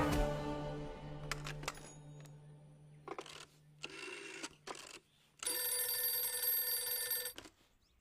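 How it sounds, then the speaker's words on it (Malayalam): A telephone bell rings in separate bursts with short pauses between them, some short and some longer, sounding fairly faint and alone. "വർക്കിച്ചായ ഫോൺ."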